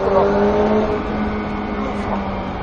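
A Ferrari F8 Tributo engine drones at high revs on a race track with a steady tonal whine, sustained and fairly close, easing off slightly toward the end.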